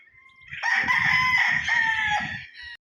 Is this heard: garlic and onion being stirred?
no